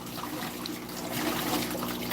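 Water trickles and pours steadily at close range, a continuous liquid splash with a slight rise in level toward the end and no talking.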